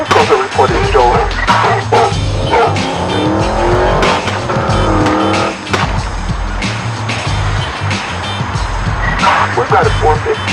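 A stolen sports car flees a depository parking lot, its engine roaring loud and close with squealing tires, under continuous police radio chatter.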